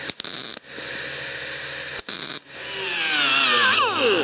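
Angle grinder grinding down a weld on a David Brown 990 tractor, a loud steady high whine in bursts separated by short pauses, pitch sweeping as the disc loads and spins down near the end.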